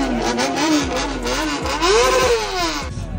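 A Honda CBR 600 RR motorcycle engine at a crowded bike event in Kathmandu runs loudly close by, its pitch rising and falling through repeated revs, with other engines and crowd noise faint behind it.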